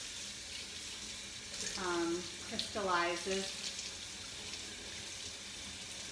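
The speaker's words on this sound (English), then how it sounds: "the trick here is to just run it under some hot water" Hot water runs from a tap over a stuck vanilla jar lid in a home kitchen, a steady hiss of flow with splashing that swells midway as the jar meets the stream, while a voice talks briefly over it.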